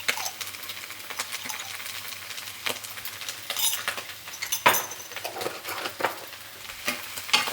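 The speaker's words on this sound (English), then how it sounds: "Stir that in a little bit." A spoon stirring ginger paste into a pot of red Thai peanut curry, soft scraping and gentle sizzle with a few light clinks of utensil against the pot, quiet and close, no talking.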